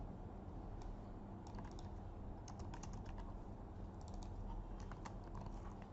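Values are typed on a computer keyboard in quick, light clicks and short flurries, faint and close, over a steady background hiss.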